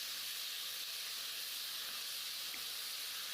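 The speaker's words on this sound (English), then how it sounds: "You want to stir fry this over high heat until it changes color and it's cooked." Pork stir-fries in a very hot skillet over high heat, giving a steady, even sizzle that stays close and constant, with no talking.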